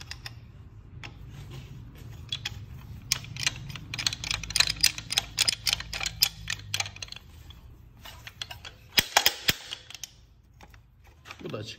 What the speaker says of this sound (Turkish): Önce çektirmeyle vuralım.